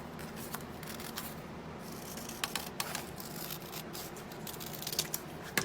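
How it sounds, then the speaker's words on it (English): Paper scissors snip through a paper mask piece for a DIY 3D face mask, giving a run of soft, close cuts and crisp paper rustles that get sharper toward the end, with no talking. "Use paper scissors."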